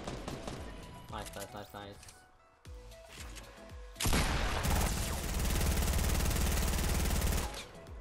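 Rapid gunfire shoots down building walls in Fortnite Battle Royale, a dense, loud sustained burst in the second half that follows scattered game effects, with a voice talking over the start.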